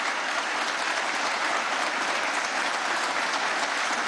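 Audience applause following a master class on Bolívar at a formal gathering with armed forces present, a dense, steady clapping from a large crowd sustained evenly throughout with no speech over it.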